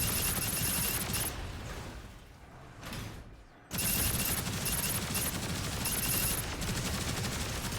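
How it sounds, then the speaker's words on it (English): Beam Gatling gun in Gundam Evolution blazing away in continuous dense rapid fire, close and loud, easing off briefly near the middle before roaring back at full intensity. "up close you can just cut loose with the beam Gatling here"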